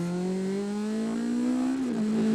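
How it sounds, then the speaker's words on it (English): A 540 kg lightweight car with a heavily modified engine revs hard up close, a loud rising buzzy note that climbs steadily then dips briefly as the throttle shifts, alone without talk. "Oh, I've got to say the engine is just something else."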